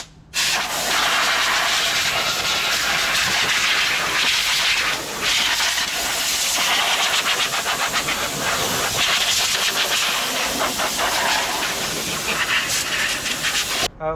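Compressed air blasts through the air intake and ducts of a Mercedes E-Class 550 W212 near the throttle body, a loud continuous roaring hiss that holds almost unbroken for the whole stretch.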